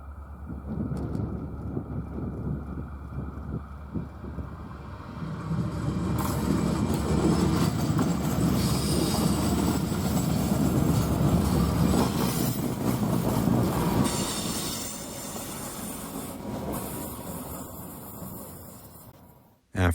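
Freight train 104 with a single locomotive rumbling past the Siringo Road crossing in Santa Fe, a loud continuous roar of rolling wagons and faint clickety-clack that swells, holds and then eases, with wind buffeting the microphone.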